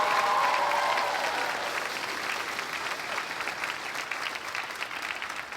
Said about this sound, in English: Let's give a special round of applause to Andrew Guzik back there